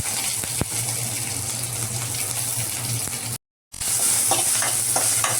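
Mustard seeds fry in hot oil for a pumpkin curry, giving a constant loud sizzle with occasional pops and one brief dropout to silence partway through.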